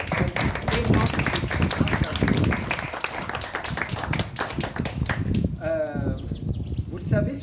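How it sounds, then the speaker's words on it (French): Audience at the opening of the Lire sous les pommiers 2025 book fair applauding the volunteers, dense sustained clapping throughout, with a voice speaking over it near the end. "je veux qu'on les applaudisse"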